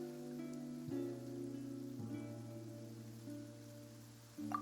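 Soft, steady rain falls in the video game Genshin Impact, a faint wash of patter beneath low sustained tones of background music that shift pitch every second or so.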